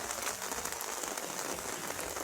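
Steady rain falling and pattering on surfaces, a dense continuous hiss of drops at even loudness throughout, with no voices.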